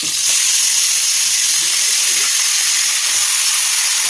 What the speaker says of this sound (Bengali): তেলটা গরম হয়ে গেছে, এবার চিকেনটা ভেজে নেবো।